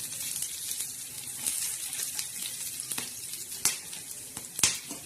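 Whole spices (khada masala) dry-roasting in a pan, giving a steady soft sizzle with occasional sharp clicks and pops as they are moved, no talking.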